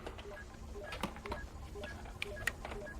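A telephone call is patched through with a run of short electronic dialing beeps at varied pitches, punctuated by sharp clicks, fairly quiet with no talking.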